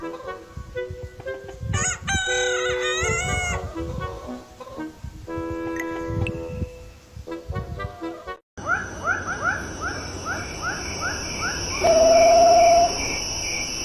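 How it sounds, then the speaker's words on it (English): Naked neck silky domestic chicken crowing, a rooster's drawn-out cock-a-doodle-doo calls heard close and fairly loud, with other bird and insect sounds mixed in around them. "Domestic bird, naked neck silky."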